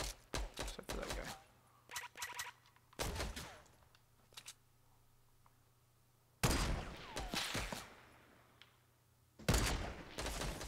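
Gunfire in a battle royale video game comes as bursts of rapid shots, a few separate volleys of close, sharp cracks spread across the clip with quiet gaps between them, with no talking.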